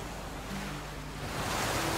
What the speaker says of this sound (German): Voll direkt am Wasser, ist ziemlich laut, glaube ich.